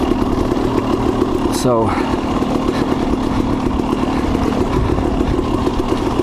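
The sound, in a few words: motorcycle engine running on the trail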